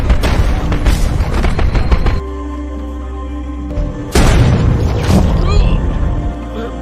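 Sniper gunfire in the 2022 war film The Ambush: loud, heavy booming shots and crackling bursts over a sustained musical score, with a brief quieter stretch between two volleys.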